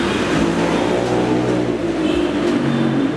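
A blue Kawasaki ZX25R motorcycle fitted with an aftermarket exhaust runs its engine loud and close, a dense, steady droning growl that holds high revs throughout.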